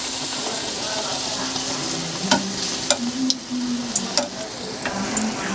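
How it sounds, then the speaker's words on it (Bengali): Eggplant fritters (beguni) frying in hot oil over a low flame, a steady close sizzle with a few sharp pops and clinks from turning the slices. "এভাবে প্রতিটা বেগুনে আমরা একটার পর একটা এভাবে ভেজে নেব।"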